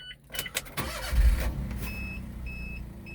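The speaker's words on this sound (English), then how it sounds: "We come inside and give the engine a start." A Daihatsu Hijet automatic Japanese mini truck engine is started from inside the cab: a brief whirring crank catches into a steady low idle, close and moderately loud, with a faint high electronic chime beeping repeatedly.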